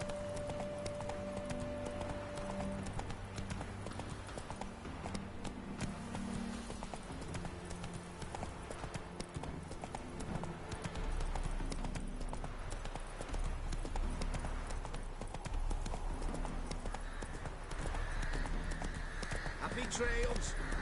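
Hooves of the horse Roach clip-clop steadily through a video game, a continuous trotting rhythm with music and game sounds underneath.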